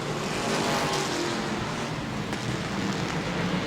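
Pure stock race cars roar around an oval dirt track during a heat race, a dense, continuous engine drone from the pack filling the whole stretch with no one talking.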